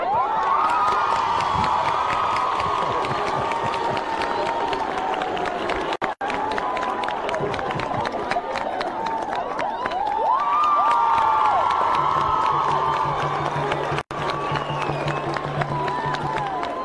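Students at a girls' high school prayer gathering cheer, shout and clap in a large crowd, a dense, steady roar with rising whoops that lasts throughout, with brief dropouts.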